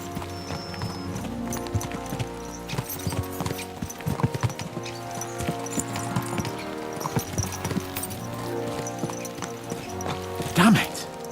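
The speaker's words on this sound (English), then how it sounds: "Let's really spur these horses on, eh?" Horses galloping in the video game Kingdom Come Deliverance II, a steady rhythmic clip-clop of hooves running under game music and voices talking, with a brief louder snort or whinny near the end.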